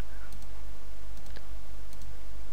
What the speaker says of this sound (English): I'm just clicking to follow the area of Steve's face, pretty much.